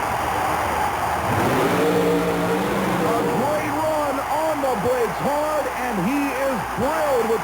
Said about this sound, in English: The ex-oval track driver lines up in the nitrous-injected, fuel-injected Chevrolet-powered coupe.